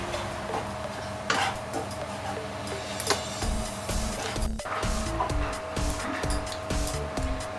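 A spoon scrapes and stirs through a thick mixture of jaggery, coconut, milk and poha in a pan, with clinks against the metal over a steady background hum.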